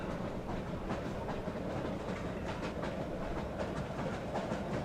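Train riding along rails in a Half-Life style video game, a quiet steady rolling rumble with faint repeated clicks of wheels over track joints and no talk.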